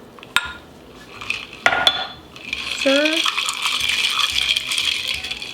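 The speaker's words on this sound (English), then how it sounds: "you take your tea in your glass and you pour it in like so" Thai tea poured into a glass: a couple of sharp clinks of glass, then a steady bright liquid pour that runs continuously to the end, close and moderately loud.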